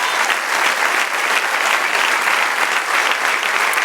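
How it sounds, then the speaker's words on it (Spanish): A congregation at a Spanish-language church service breaks into steady, dense applause, loud and continuous, many hands clapping together with no voices rising above it. "Den un aplauso al Señor."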